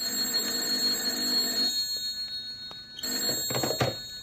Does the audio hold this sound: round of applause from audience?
no